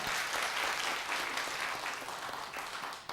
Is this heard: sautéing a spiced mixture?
no